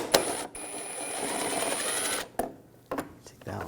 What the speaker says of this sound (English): Now on the side, we're going to take these screws out. Use a T30 socket.